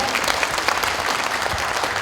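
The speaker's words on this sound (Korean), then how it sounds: "서동영 국회의원님께 다시 한번 큰 박수 한번 부탁드리겠습니다" An audience at a National Assembly member's constituency report meeting gives a loud, continuous round of clapping, dense and close throughout with no one speaking.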